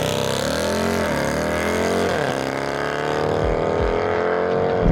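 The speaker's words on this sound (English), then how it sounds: "a few mods I've done to this is an AFE intake and also an AWE exhaust, as you can hear." Jeep Grand Cherokee Trackhawk with an AWE exhaust and AFE intake, its engine droning loud and steady with rising and falling pitch, heard alone and close.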